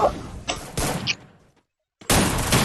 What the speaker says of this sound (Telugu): అరే బాంబు వేసిండు నా పక్కన పడిందా